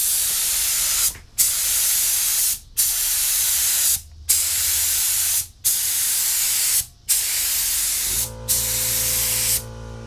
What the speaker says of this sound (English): This is his first time using the spray gun, and he's just doing a few test passes.